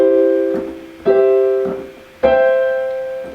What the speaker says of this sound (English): if we play these chords in a sequence, going from root position to first inversion to second inversion and then to root an octave higher